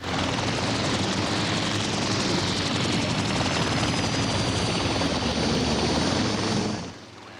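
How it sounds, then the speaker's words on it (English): A helicopter's steady, loud rotor roar in a film fills the whole stretch, then drops off sharply near the end. "Look, we got helicopters."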